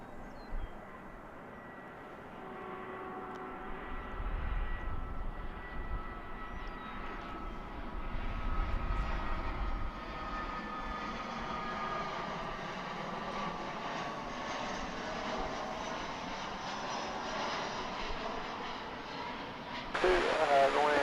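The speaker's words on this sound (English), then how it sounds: "Here comes the flight from Austin." A flight from Austin arrives at DFW International Airport, its jet engines swelling into a rising, rumbling roar as it approaches. A voice talks over the engine noise.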